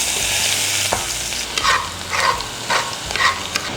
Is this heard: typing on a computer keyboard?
no